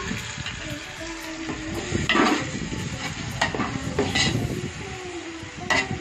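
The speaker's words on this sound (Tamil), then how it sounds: "தக்காளியை நல்லா வதக்கிக்கலாம்" Tomatoes sautéing in a pan at a friend's home while mutton biryani is being made, with steady sizzling and frying scraped by repeated stirring strokes, and a few brighter clinks of a utensil against the pan.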